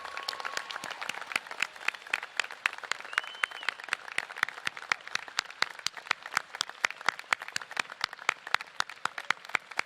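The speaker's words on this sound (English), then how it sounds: "all the guests here this evening give you a heartfelt round of applause" Audience applause at a high school graduation ceremony for the class of 2022: many hands clapping in a steady, dense patter that holds at an even level throughout.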